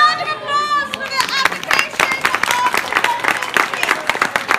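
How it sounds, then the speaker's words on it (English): An audience at a comic con teapot racing event breaks into lively clapping that builds and continues as a dense patter, with voices calling out over it. "A round of applause for the"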